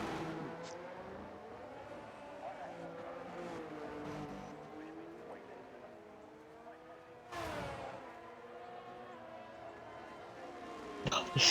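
Ferrari race car engine in a racing video game set at a Mexico round, a high whining tone rising and falling through gear changes, heard under ongoing commentary.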